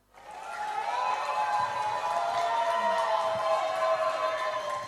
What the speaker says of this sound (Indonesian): kami berikan kesempatan untuk tepuk tangan boleh